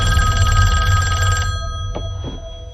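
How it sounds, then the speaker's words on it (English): An old-style telephone bell rings loudly with a continuous metallic trill that stops partway through, leaving a ringing decay and a couple of faint knocks. "and the phone rings"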